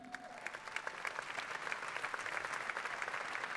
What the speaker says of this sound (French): Je vais vous demander de bien vouloir applaudir Julie Boncourt